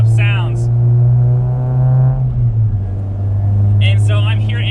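A Honda Civic Si fitted with a Skunk2 header and 3-inch exhaust hums at a steady low drone that rises slightly then settles, with someone talking briefly at the start and end.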